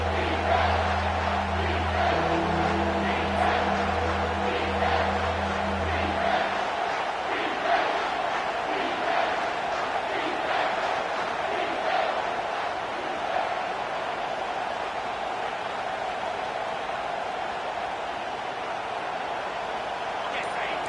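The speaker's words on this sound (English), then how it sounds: "Decibels rising as the crowd gets behind this defense on third down." Stadium crowd at a college football game between Auburn and Ohio State roars loudly on a defensive third down, a sustained dense wall of noise with a low horn-like drone in the first seconds.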